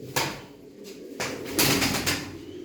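Pigeons cooing in short bursts close by, with a brief flutter or knock between calls.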